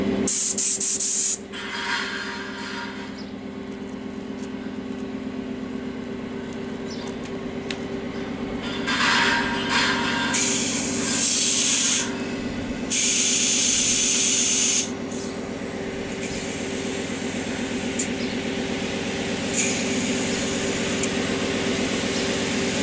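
A farm machinery air compressor fills its receiver with a steady mechanical drone, broken by several loud bursts of hissing air release, close and continuous.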